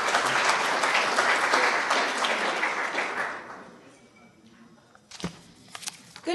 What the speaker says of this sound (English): Give her a round of applause and pretend I did that smoothly